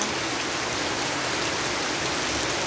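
Heavy rain pouring down outdoors near a small shop, a dense, constant hiss that stays loud and even throughout with no voices over it.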